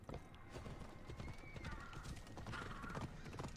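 Galloping horse in Assassin's Creed Odyssey, quick rhythmic hoofbeats pounding steadily and close, with a brief whinny mixed in, fairly quiet overall and without speech.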